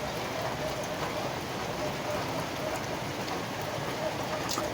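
Steady summer rain falls on a garden, a dense continuous patter of drops close by with no breaks, alone without talk.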